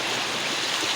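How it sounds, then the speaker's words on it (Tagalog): Strong current of floodwater rushing along Kambal road in Guitnang Bayan 2, San Mateo, Rizal, a dense continuous broadband roar, loud and close with no pauses. "Ang lakas ng agos sa tubig."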